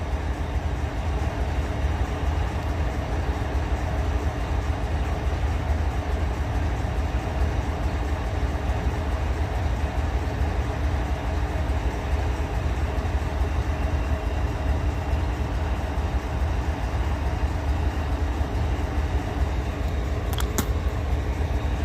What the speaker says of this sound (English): This train's sitting on the side of the hill.